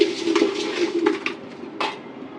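Rohu fish pieces being mixed by hand with salt, chili and turmeric in a bowl, soft wet squelching and light bowl clinks under a steady low hum.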